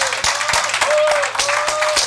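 Church congregation clapping to God in a lively rhythmic pattern, sharp regular claps about every quarter second over a busy crowd wash, with a sustained tone threading through.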